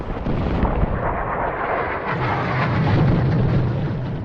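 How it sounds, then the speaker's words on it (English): Battle explosions from a war film such as Apocalypse Now roll out as a loud, continuous, deep rumble. The booming blasts blend together and swell slightly toward the end, with no voices over them. "we wouldn't be watching the explosions on TV"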